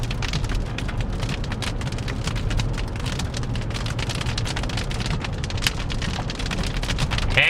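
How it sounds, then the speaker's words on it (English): Hail and heavy rain pelting surfaces during a prairie thunderstorm in Canada, a dense continuous patter of sharp impacts with a few louder individual hits, steady and close throughout with a low rumbling wash underneath. "I heard a hailstone."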